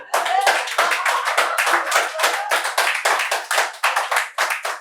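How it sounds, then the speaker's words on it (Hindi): Sustained audience applause at a Hindi poetry recitation, dense, loud and close, with rhythmic surges of clapping running throughout and no voice over it. "तालियां वैसे खूब बज रही हैं,"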